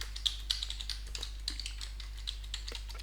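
Fingers tap out a password on a computer keyboard in quick, uneven keystrokes over a steady low hum, close up with no talking.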